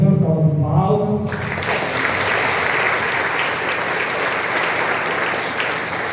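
A church congregation breaks into sustained applause at a Saint Rita Mass and chapel blessing, dense and steady clapping that follows a brief spoken line at the start.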